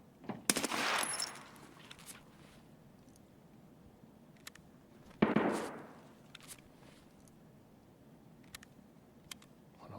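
Automatic gunfire in Escape from Tarkov, a burst of rapid shots near the start and another around five seconds, muffled and moderately distant, with scattered fainter pops between and no talking.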